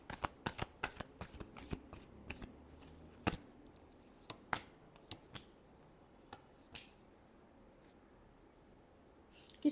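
Tarot cards are shuffled close up: a quick run of crisp riffling flutters and snaps at first, then fewer scattered taps and flicks that grow quieter.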